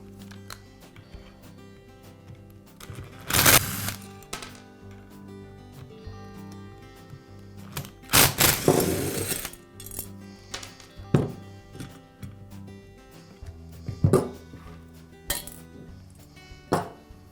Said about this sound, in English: Now remove the shoe. It's secured with 4 screws inside of the shoe.